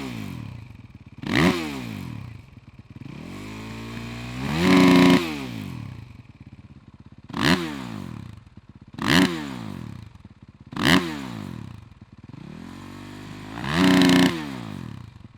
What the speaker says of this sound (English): testing the all-new Yoshimura RS-12 exhaust system on the 2020 Suzuki RM-Z450.